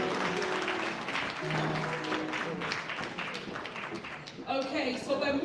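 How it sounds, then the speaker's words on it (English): Audience applause for the authors at a book launch event, a continuous patter of clapping from a crowd, mixed with voices talking and a brief burst of tonal sound near the end. "Can you give them a round of applause as they step"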